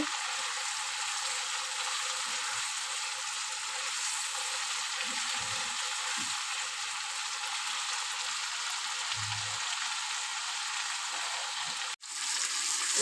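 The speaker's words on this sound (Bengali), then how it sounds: "মশলাটাকে ভালো করে আমি কষিয়ে নেব।" Spice paste frying in a pan gives a constant, fairly quiet sizzle that runs unbroken for the whole stretch, with a couple of faint low knocks and no talking.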